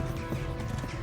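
Horse hooves clip-clopping in Kingdom Come Deliverance, a steady close run of hoofbeats under a dense game soundscape.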